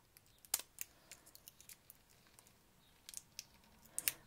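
Plastic packaging around a pack of paper tickets from an AliExpress haul is handled and pulled at, giving sparse sharp crinkles and snaps, close and fairly quiet, with pauses between them.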